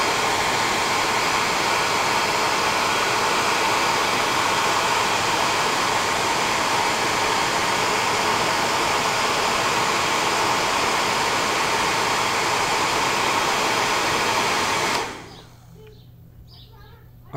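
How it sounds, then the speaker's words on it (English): A hair dryer blows steadily and loudly for about fifteen seconds while drying paint on a miniature, then cuts off abruptly, leaving a quiet room. "definitely get yourself a hairdryer. That works really fast."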